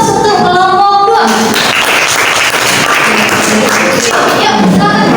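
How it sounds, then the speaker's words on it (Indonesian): A classroom audience applauds a student group in a fiqh lesson. A brief voice comes first, then dense, loud clapping carries on for several seconds. "Kita beri aplaus untuk kelompok 2."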